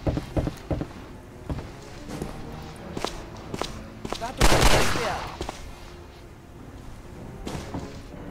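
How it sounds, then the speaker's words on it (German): Gunfire in the video game Hidden and Dangerous 2: scattered sharp shots and one louder burst mid-way amid footsteps and game ambience, with no speech over it. "Wer schießt?"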